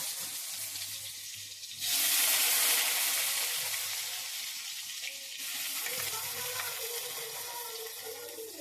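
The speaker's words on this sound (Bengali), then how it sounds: "সয়াবিনটাকে একটু ভেজে নেব আমি" Squeezed soybean chunks drop into hot oil in a wok, a loud hiss that surges after a couple of seconds, then an ongoing bubbling sizzle with a second burst later.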